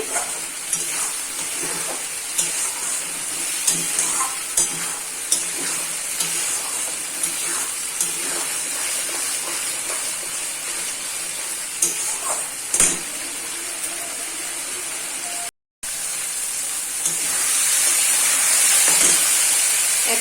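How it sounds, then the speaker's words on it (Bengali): Onion and garlic masala for coriander chicken fries in oil, a steady close sizzle and hiss with occasional stirring scrapes, a brief break near the end. "দেখুন কীভাবে তেল ছাড়ছে মশলাটা থেকে"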